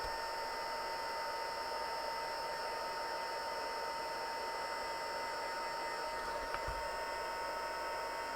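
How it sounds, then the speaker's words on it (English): A dryer blows steadily to dry ink on a craft project, giving a continuous airy hiss with a faint electrical hum that stays even throughout, with one brief small knock near the end. "I'm just going to dry out all of the areas where it's not noticeably dry before I put down my next lot of ink"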